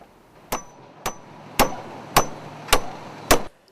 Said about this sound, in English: Labourers quickly hammer a nail into the loose planks as soon as the vehicle movement stops.